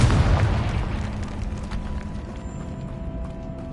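A Confringo blasting spell exploding in the video game Hogwarts Legacy: one loud close burst at the start that decays into a rumbling tail and a steady low hum.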